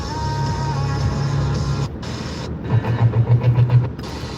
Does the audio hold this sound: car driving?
yes